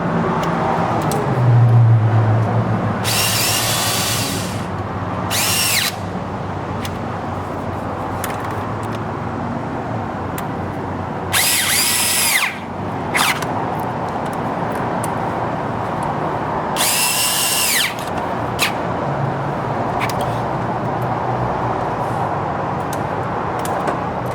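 A power drill snugs down the screws on a 1995 Ford F150, firing off several short high whirring bursts spread apart over a low steady background hum, with nobody speaking.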